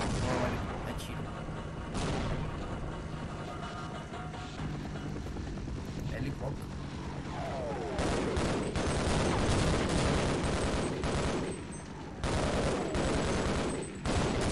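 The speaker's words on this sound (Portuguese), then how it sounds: "tá tendo tiro pra caralho" Dense bursts of gunfire rattle through a Half-Life game scene, continuous loud shooting with a helicopter-like drone and booming impacts, while a player talks over it.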